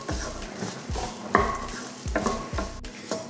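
Small onions and coconut fry in a pan, a soft sizzle under repeated scraping stirs of a spoon against the metal, close and fairly quiet.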